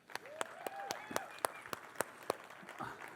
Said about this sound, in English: I just want to give her a round of applause and thank you for putting all this together.